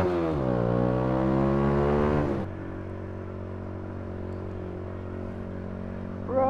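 Road traffic queuing past a junction: a nearby engine climbs in pitch for about two seconds, then drops abruptly to a steady lower hum that holds to the end.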